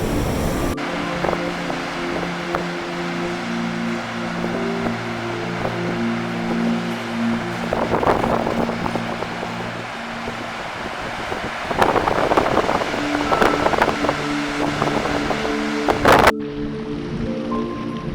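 Strong, cold, rainy wind in Iceland buffets the microphone in continuous rumbling gusts, swelling louder at times, with a broad rushing roar behind it.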